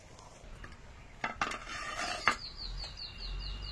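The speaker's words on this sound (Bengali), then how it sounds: "এইবারে থালাটা তুলে নি" A metal plate is lifted in a home kitchen while cooking egg-based paneer, giving a few sharp clinks and scrapes near the middle against quiet background.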